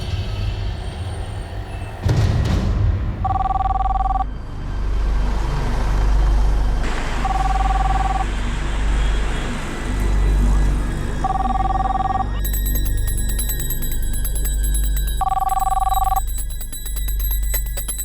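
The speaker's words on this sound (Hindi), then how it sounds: "कौशल, फोन तो उठा लेता ना।" A landline telephone rings in four evenly spaced double bursts over a steady low rumble, moderately loud and nearby.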